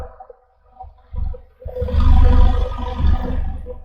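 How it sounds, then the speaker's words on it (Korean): Exhaust from a Jeep that stalls with a warning light, heard close at the tailpipe: a rough idle rumble that swells and fades as engine RPM fluctuates. "워로롱 하고 배기 속도가 빨라졌다 느려졌다 합니다."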